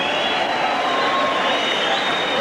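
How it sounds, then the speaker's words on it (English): Arena crowd at a professional boxing match in Liverpool applauding a South African fighter, a dense, steady wash of clapping and crowd noise filling the whole stretch with no break. "crowd is applauding the bravery of Jeremiah Malinga from South Africa"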